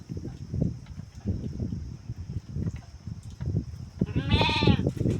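A few close lamb bleats near the end, wavering and nasal, over a steady background of rustling and low movement noise.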